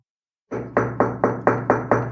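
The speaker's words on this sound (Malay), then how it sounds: "Pintu diketuk." Knocking on a door in a Malay horror story, seven evenly spaced heavy knocks following a moment of silence, close and loud, each with a short dull ring.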